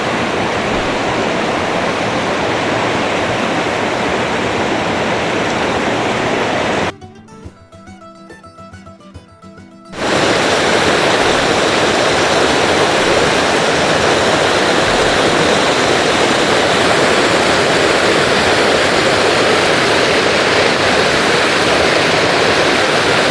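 A waterfall in Northumberland pours with a steady, full roar of rushing water, close and loud, briefly cutting out for a few seconds midway before resuming just as strongly.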